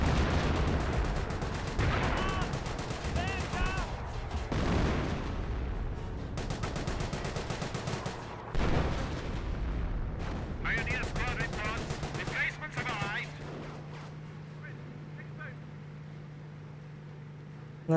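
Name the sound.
25 pounder artillery barrage in Company of Heroes video game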